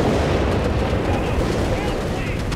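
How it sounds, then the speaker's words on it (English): Incendiary bombing run in Company of Heroes 3 rumbling as a dense, continuous wash of explosions and crackling fire, steady and loud throughout with no clear gaps. "What was that being dropped in? An incendiary bombing run."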